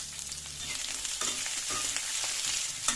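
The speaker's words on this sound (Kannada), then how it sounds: "ಬೆಳ್ಳುಳ್ಳಿ, ಶುಂಠಿ, ಈರುಳ್ಳಿ ಹಾಕೊಂಡ್ಬಿಡಿ. ಎಲ್ಲ ಚೆನ್ನಾಗಿ ಫ್ರೈ ಮಾಡ್ಕೊಳ್ತೀವಿ." Cardamom, cloves, garlic, ginger and onion fry in a pan for onion capsicum paneer gravy, a steady close sizzle broken by several scraping stirs, with no talking.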